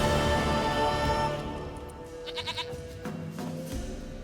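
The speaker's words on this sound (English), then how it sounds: "Goat of mine, dearest, sweetest goat." A goat bleats in The Witcher 3 game world, a short wavering cry partway through, set against a steady ambient bed of background game sound with no talk.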